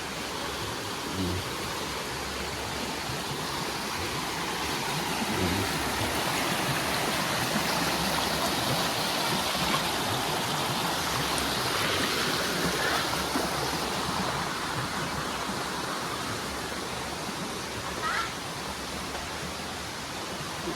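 Powerful rushing water roars steadily and continuously, a dense, loud torrent close by, with a few faint voices briefly audible.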